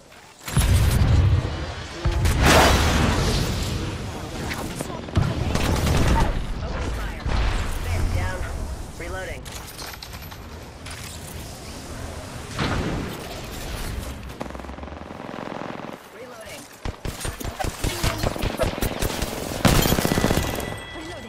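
Video game gunfire from Apex Legends: loud automatic weapon bursts and single shots crackle close up, with booms and mechanical clatter, alternating between heavy firefights and calmer stretches with talk.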